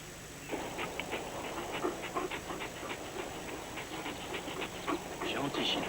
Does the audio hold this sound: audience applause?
no